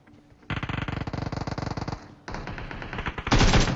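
Rapid automatic gunfire from the PUBG Mobile shooter game rattles out in a loud sustained burst, then a second burst after a brief gap, with a sharper, heavier volley at the end.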